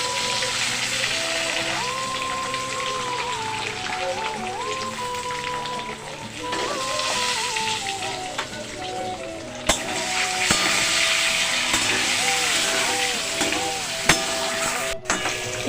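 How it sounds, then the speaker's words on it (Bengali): Potato pieces frying in oil with a little chili powder and turmeric for egg biryani, a steady broadband sizzle running throughout with background music tones over it and a few sharp clicks. "আমি আলুটাকেও লঙ্কা গুঁড়ো হলুদ গুঁড়ো সামান্য দিয়ে একটু তেলে ভেজে নিচ্ছি"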